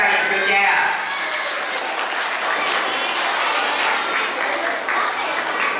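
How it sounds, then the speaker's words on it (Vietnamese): Sustained audience applause at a parish Catholic church's evening music performance, a dense, steady clapping from a crowd filling the hall at close range, with voices mixed in throughout. "Xin quý học đoàn cho một tràng pháo tay cho cha."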